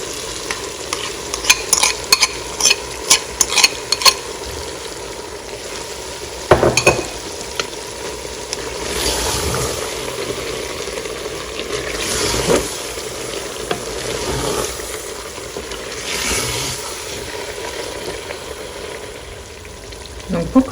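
Rice and chicken with tomato paste are stirred in a Cookeo multicooker for Tunisian red rice, with repeated spoon scrapes and clatter over a low, continuous sizzle, close by and broken by a few sharper knocks.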